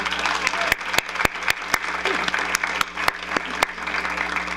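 Audience applause at a school board regular meeting honoring the High School Teacher of the Year from Baton Rouge High School: a steady wash of clapping with several sharp, louder individual claps standing out, moderately close, no talk over it.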